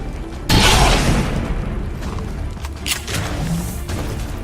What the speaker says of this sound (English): I would fire the shredder gun, but there's not a lot of point.